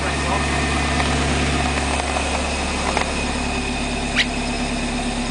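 A Mazda MX5 engine runs at a steady idle with a constant low drone and faint mechanical ticks, close by, while people talk over it.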